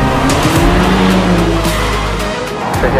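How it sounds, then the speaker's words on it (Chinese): BMW car driven hard on a downhill section of a race track, engine loud and steady close by with a brief tire squeal, no talking. "慢慢的把油门踩满，踩下去，踩到底都可以"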